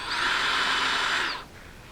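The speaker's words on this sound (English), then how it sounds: "drill a hole into these so that these taper screws basically fit flush" A power drill spins a large-diameter 82-degree taper countersink bit into metal mobile-base parts, a loud steady whine for over a second before cutting off abruptly, leaving faint shop hum.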